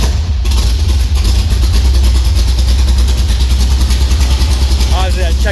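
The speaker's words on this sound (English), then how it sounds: "But we'll see if it starts and idles here." A 1996 F-body car's LT1 V8 runs at a steady, loud idle the whole time, with no mass airflow sensor connected and on a 1995 engine harness, and a faint squeaky tone near the end.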